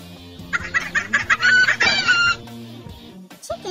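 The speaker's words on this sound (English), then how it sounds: "Each chicken sound has a specific meaning," Chickens cluck in a low, busy background while a rooster crows once loudly and close in a long, wavering call, and the clucking continues afterward.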